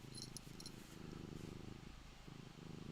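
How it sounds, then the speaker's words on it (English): Cat King purring close into a microphone, a steady low rumbling purr that runs continuously and loudly throughout with no talk over it. "now you can probably hear cat purring right into the microphone"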